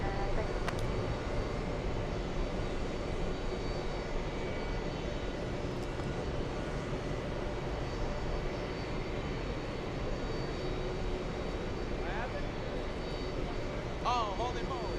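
A Delta heavy jet takes off from runway 22 right at Kennedy airport, producing a steady, distant roar that holds throughout the stretch.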